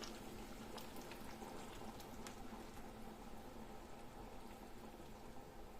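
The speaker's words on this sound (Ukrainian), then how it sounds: "Чайник у мене закипів." Steady rolling bubbling of water at a full boil in a kettle, continuous and close, with a faint hiss throughout and no talking.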